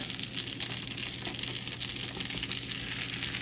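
Butter and self-rising flour cook together into a roux in a pan over medium heat, making a steady soft sizzle with faint stirring scrapes, close and continuous.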